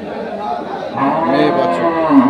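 A dairy cow moos loudly and close at a cattle market, a long low call that swells in the middle and holds, with no talking.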